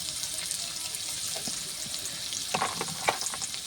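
Ginger sizzles steadily in hot oil for a curry, a dense continuous frying hiss with a few sharp clinks of stirring near the end and no voices.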